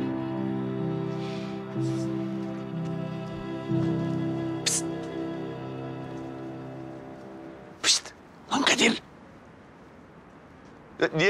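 A man imitates a cat's meow with his voice in a Turkish TV comedy scene, drawn-out tonal voice-like calls filling most of the clip, followed near the end by a few short, sharp bursts.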